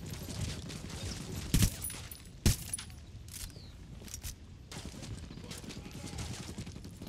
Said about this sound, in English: I went up in this building, shooting out the window